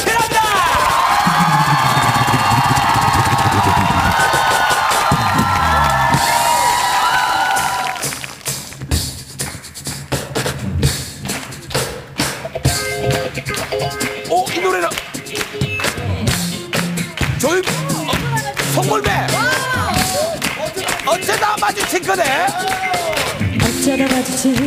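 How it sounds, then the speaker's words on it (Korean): Audience at a televised final performance cheering and whooping loudly at first, then tapering into scattered claps and shouts as music with singing begins underneath. "가이키르 씨의 마지막에 큰 박수만 필요합니다."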